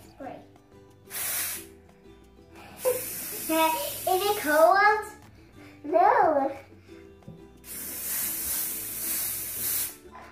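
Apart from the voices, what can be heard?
spraying coloured hairspray onto hair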